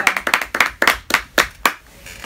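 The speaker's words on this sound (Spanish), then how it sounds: "Aplausos para Daniel Noyola." A small group claps for a contestant on the Exatlón TV show: about nine sharp, close hand claps in a loose rhythm that slow and thin out before fading near the end.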